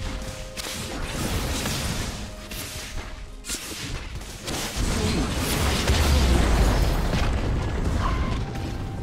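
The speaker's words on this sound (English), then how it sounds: "destroyed a turret" A turret destroyed in League of Legends gives a heavy booming crash and a rumbling collapse midway, with whooshes, mechanical clanks and game effects around it.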